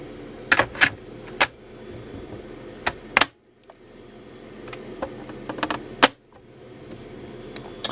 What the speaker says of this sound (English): Okay, I'll show how it is when putting a tape into the machine.